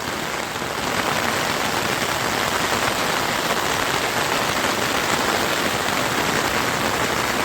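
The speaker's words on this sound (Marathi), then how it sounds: "भरपूर पाऊस कोसळतोय." Heavy monsoon rain pours down near Morbe dam, facing Irshalgad fort, as a dense, steady roar of drops hammering surfaces that holds even and loud throughout with no voices.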